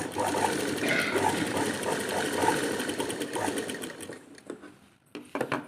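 A sewing machine stitches a back-hook blouse in a steady, continuous mechanical whir for about four seconds, then slows and stops, leaving a few short bursts near the end.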